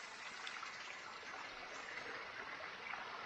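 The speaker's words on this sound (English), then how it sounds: "it is just a waterfall" Waterfall on a hiking trail in the New Hampshire mountains, a faint, steady rushing hiss of falling water heard from some distance, unbroken and without talk.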